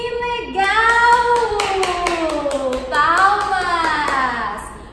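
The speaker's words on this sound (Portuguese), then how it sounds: "Palmas!" A teacher's hands clap several times in quick succession during a children's lesson on numbers, with her voice speaking and singing over the claps throughout.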